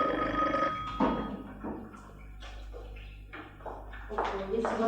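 A telephone rings indoors during a domestic drama scene, its bell mixed in with voices talking over it.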